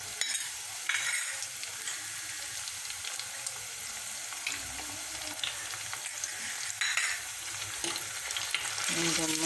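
Garlic-ginger paste frying in a pan for a sardine kudampuli curry, a close, steady sizzle with occasional stirring scrapes and a brief spoken word over it.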